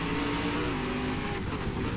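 V8 Supercar engine in a sim racing game of the 2009 Bathurst 500k at full throttle, a steady loud buzzing drone held for two seconds with no talk.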